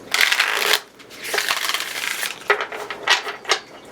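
A rose petal finish Roots and Wings Oracle card deck is shuffled by hand, giving crisp riffling bursts and soft slapping clicks in uneven waves, close and fairly loud with no talking.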